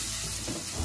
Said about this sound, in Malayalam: ഇനി ഇത് നന്നായിട്ടൊന്ന് വറുത്തെടുക്കണം.